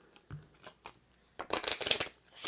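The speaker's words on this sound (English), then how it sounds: "We can go ahead and shuffle all these up." Cards from the Don't Mess with Cthulhu game shuffled by hand, a few soft taps and slides followed by a denser riffling burst of flicking cards, close and clear with no talking.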